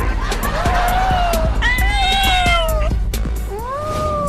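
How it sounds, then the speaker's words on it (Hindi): Several cats meowing and yowling loudly in overlapping, drawn-out cries while chasing a person, with scuffling footsteps and voices mixed in throughout. "अरे ये बिल्लियाँ तो मेरे पीछे ही पड़ गई।"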